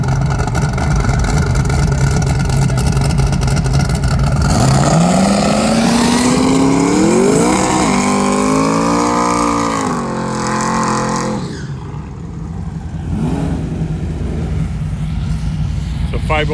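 A Pontiac Firebird and a Ford Mustang launch at a dragstrip test-and-tune session, a loud continuous engine roar that climbs in pitch through the gears and then fades as the cars pull away down the track.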